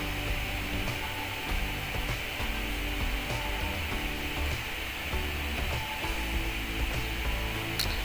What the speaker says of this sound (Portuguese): vamos passá-los à máquina com uma costura a direito